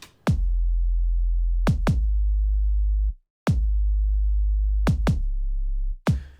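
Deep sustained sub bass from a music track, each long booming note opened by a sharp kick drum hit, with a brief gap near the middle and quick double kicks recurring in a steady pattern, loud and alone.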